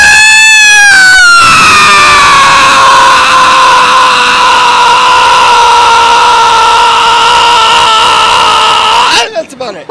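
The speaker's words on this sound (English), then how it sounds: "You want to hear my famous scream?" A woman lets out one loud, sustained, high-pitched scream that slowly sinks in pitch and holds for about nine seconds before cutting off.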